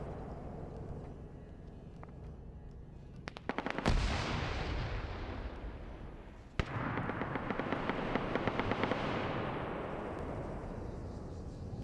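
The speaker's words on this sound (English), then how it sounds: "I hear the sniper going off." Rifle fire in a multiplayer shooter match, with a sharp loud crack followed by another and then dense, continuous gunfire and rumbling battle noise.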